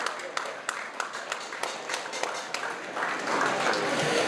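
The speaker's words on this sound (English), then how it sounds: "Give them a round of applause there." Scattered claps at a California Legislative Native American Caucus honors ceremony, irregular and moderately close, building into steadier applause toward the end while a voice speaks over it.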